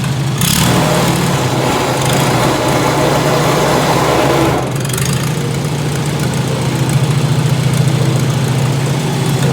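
An old Farmall Super A tractor engine, not run for a couple of years, idles to warm up, a loud, close, steady low chugging that dips and settles after a few seconds, then keeps running evenly with no talk.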